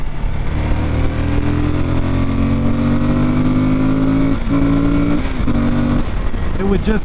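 A Suzuki V-Strom 1050 motorcycle being ridden, its engine droning and rising in pitch, then dropping and climbing again through gear shifts, under wind noise with someone talking over it.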